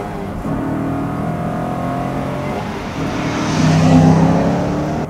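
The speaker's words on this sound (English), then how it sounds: "This is a Vantage that's just stripped out, has a roll cage, has some stuff necessary for racing" A stripped-out Aston Martin Vantage race car with a roll cage runs with a steady engine drone that swells as it revs harder toward the end, loud and close, with no talk.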